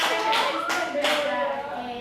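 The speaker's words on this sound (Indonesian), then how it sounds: "beri tepuk tangan yang Mbak Dian karena Mbak Dian berusaha" A small group claps in rhythm for a woman named Dian during a class, three or so rhythmic bursts of hand claps with voices underneath.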